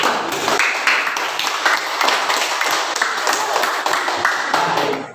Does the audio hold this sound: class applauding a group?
yes